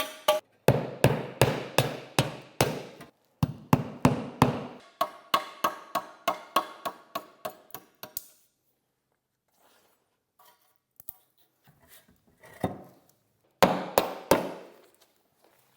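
Tongue-and-groove ends being cut off wooden boards in a garage: two runs of quick, evenly spaced sharp strokes, loud and close, then a near-silent pause with faint knocks and a short final burst.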